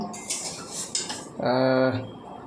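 Semai (vermicelli) cooking in a pot, with a metal spoon clinking and scraping against the pot, followed by a sustained ringing metallic tone.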